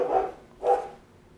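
A dog gives two sharp barks about half a second apart, moderately close and alone against a quiet room background.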